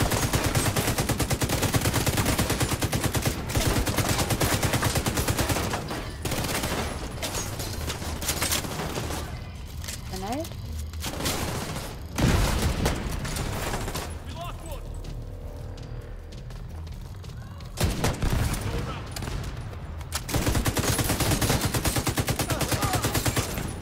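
Rapid gunfire from the video game The Division 2, sustained bursts of automatic shots with brief lulls, running under players talking over each other.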